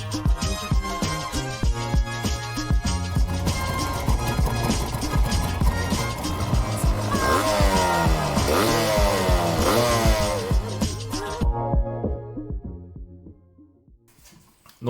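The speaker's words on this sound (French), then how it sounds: "Après plusieurs tests routiers, il s'avérera que la moto tourne très bien." A Yamaha DT125 two-stroke motorcycle runs on a road test, its engine loud and continuous with rising and falling revs before it fades away near the end.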